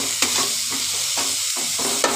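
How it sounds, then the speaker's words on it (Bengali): Chillies with salt and turmeric sizzle in a hot pan as a utensil stirs them, scraping in a few distinct strokes over a constant frying hiss. "এবার ভালো করে এগুলোকে ভেজে নেব।"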